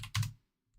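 A few quick, close clicks of keys on a computer keyboard sound in a short burst, followed by near silence.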